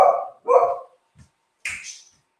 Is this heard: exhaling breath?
no